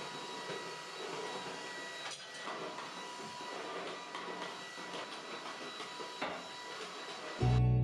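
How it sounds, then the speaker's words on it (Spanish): Steady broadband whooshing hum of a vacuum cleaner running continuously over a home floor, fairly close, with small bumps and shifts as it moves; a louder thump right at the end. "Y para acabar voy a pasar la aspiradora por todo el piso"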